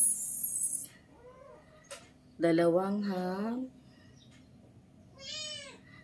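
A cat meows in a home kitchen while ham and cheese toppings are laid out. A short meow comes first, then a long, loud, drawn-out one, then a fainter meow near the end, with brief speech in between.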